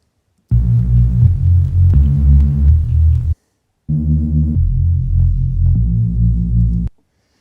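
Deep, thick sampled Reese synth bass for jungle and drum and bass, with a throbbing, wobbling tone, held in two long phrases separated by a short silence, loud and alone.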